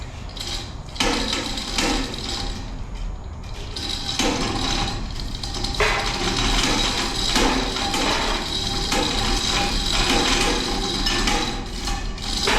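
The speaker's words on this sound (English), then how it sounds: "hammering" Hammering during car repair on a rear main seal, clutch and oil pan job, a dense run of loud metallic knocks and clanks continuing steadily throughout.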